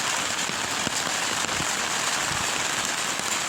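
Steady rain falls in a dense, continuous hiss, with occasional closer drips and taps on surfaces throughout.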